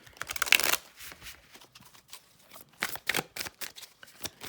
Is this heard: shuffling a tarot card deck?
yes